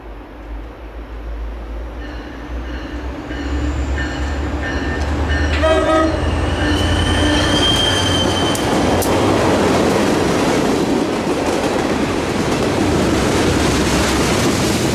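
Morristown & Erie freight train MO1 heading west passes close by with a loud, steady rumble of wheels and cars that swells and then holds. A horn blast sounds partway through.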